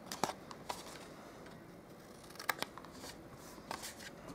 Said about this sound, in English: Then we're going to cut up on each of the score lines here, and we're going to miter these in.